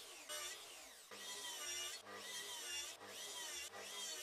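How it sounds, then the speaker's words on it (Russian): Circular saw cutting a 15 mm deep groove in wood for a homemade disc sanding machine, in four loud sustained passes separated by brief pauses, with no voices. "Сейчас циркулярной пилой пропилю паз глубиной 15 мм"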